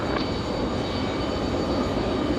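A Frontier airliner takes off from runway 5 left at Raleigh-Durham International, its engines a broad, steady roar held at constant loudness for the whole stretch.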